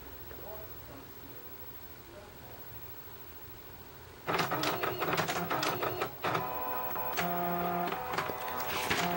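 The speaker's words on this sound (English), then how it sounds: "that is the test page of the Canon printer" A small portable Canon BJC-85 inkjet printer prints a test page: quiet room tone, then an abrupt start of whirring, buzzing print-head passes and mechanical clicks that continue steadily to the end.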